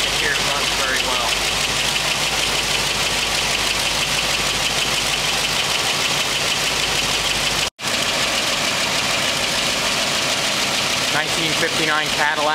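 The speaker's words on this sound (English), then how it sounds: "1959 Cadillac, just started it up" A 1959 Cadillac Series 63 Coupe DeVille V8 idles steadily after start-up, a loud, continuous rumble with a slightly rough, knocking edge and one brief break.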